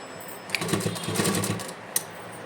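A sewing machine stitches old leggings into a doormat, a short, quiet rattling run of rapid needle strokes with small clicks before and after, heard close up without speech.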